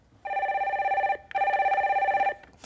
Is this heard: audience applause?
no